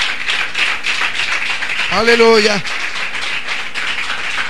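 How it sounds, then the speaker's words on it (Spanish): Congregation applauding in a Spanish-language church service, steady dense clapping from many people with one voice briefly calling out midway. "Den una ofrenda de aplauso al Señor."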